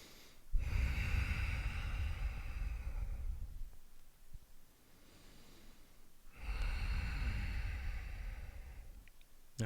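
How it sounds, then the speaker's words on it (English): Two long, deep breaths during a yoga hold, each a slow, close, airy inhale-exhale lasting a few seconds, separated by a quiet pause. "So about 2 more breaths."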